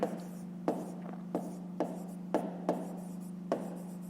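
Handwriting on paper during a fifth-grade math problem: about seven brief scratching strokes at uneven intervals, near and soft, over a constant background hum.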